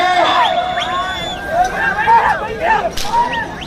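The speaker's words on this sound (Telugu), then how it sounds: "కేకలు" At a bullock pulling contest in Tondapadu, a crowd shouts and whistles loudly, with rising and falling whistle calls over a dense babble of many voices.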